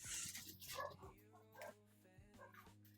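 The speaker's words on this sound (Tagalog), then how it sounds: "Ay, ang ingay. Ang ingay ng aso." A dog barks and whimpers in short yips and whines close by, quiet overall, with a couple of louder bursts early on before settling into softer whining.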